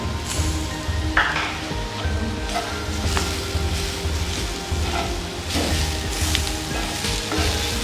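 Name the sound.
celery and fresh tomato added to a hot pan, sizzling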